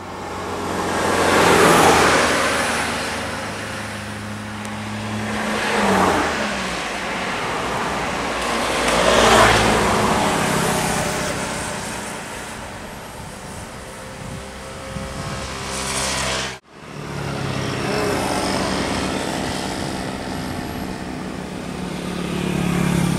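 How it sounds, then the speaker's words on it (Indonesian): A medium bus and other vehicles pass one after another on a central Sumatra highway, with rising and fading engine roars, loud and close, amid ongoing road noise. "Medium bus Marlin."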